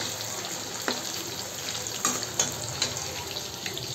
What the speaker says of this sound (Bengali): এই জন্য আলু আর কাঁচা কলাটা একসাথেই ভেজে নিই